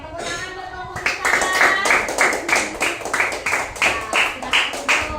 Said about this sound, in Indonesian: tepuk tangan buat kelompok kita